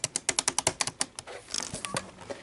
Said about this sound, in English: We have our nice clicky buttons.